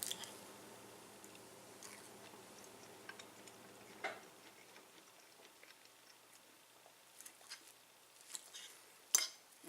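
Someone quietly eats a strawberry crepe, soft close chewing and bites with occasional light clicks of cutlery on a plate, in an otherwise hushed room.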